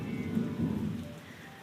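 Steady nighttime rain falls in a continuous, fairly soft wash with a low rumble beneath it, and no voices are heard.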